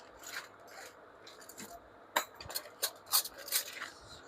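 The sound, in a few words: stainless steel serving spoons being handled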